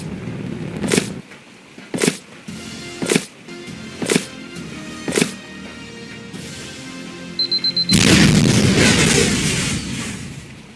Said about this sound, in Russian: Трансмиттер тоже взорвал